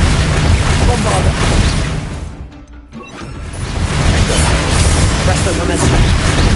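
A Bombarda blast spell in Hogwarts Legacy erupts as a loud, dense roaring explosion that fades out to a brief lull, then swells back into a heavy rumbling wash of debris and effects.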